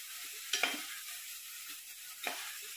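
Ground spices frying with lightly browned onion in a pan over medium heat: a soft continuous sizzle with two distinct stirring scrapes, one early and one near the end.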